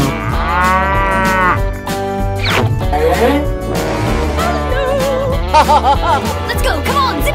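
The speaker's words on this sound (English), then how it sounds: "Cow." A cow moos loudly several times over a busy musical backing with beats, the calls drawn out and wavering in pitch, set among a cartoon animal lineup.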